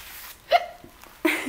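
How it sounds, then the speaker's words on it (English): Two short hiccups, the first a clear sharp one, the second a touch longer after a brief pause, close to the microphone with faint breathing in between. "Hiccup a little out of excitement."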